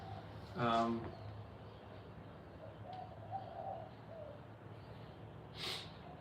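Outdoor birds, pigeon- or dove-like, give a few soft cooing calls at a distance against a steady background hiss, one early and another near the end.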